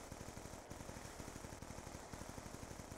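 Fast, steady automatic gunfire from the video game Black Ops 2 rattles through the whole stretch at an even rhythm, fairly quiet and with no talking over it.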